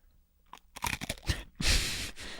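Crunching and chewing on freeze-dried gummy worm candy, a few soft bites building into loud, close, sustained crisp crunches with no talk.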